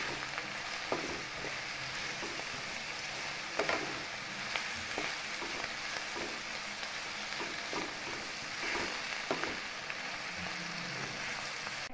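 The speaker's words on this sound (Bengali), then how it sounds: "হলুদ আর লবণ দিয়ে কিন্তু সবজিটাকে আরও নাড়াচাড়া করে নেব কিছুক্ষণ।" Mixed vegetables with turmeric and salt, for pasta, frying in a pan and stirred off and on, a soft continuous sizzle with scattered light scrapes and taps, fairly quiet and without speech.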